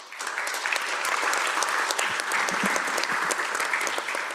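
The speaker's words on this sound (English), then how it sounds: "let's give them a very big round of applause" A large audience at the opening day of the WFO 2024 annual meeting applauds the speakers, sustained, dense clapping that stays loud throughout and tapers slightly at the end.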